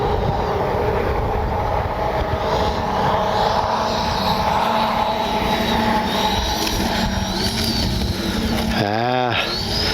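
A radio-controlled L-39 model jet with a 64mm electric ducted fan lands in a crosswind, its steady whooshing fan roar loud and continuous, with a brief voice near the end.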